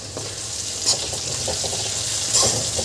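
Potatoes for an aloo palak bhaji fry in a pan with a continuous close sizzle, broken by a few brief scraping stirs from a utensil.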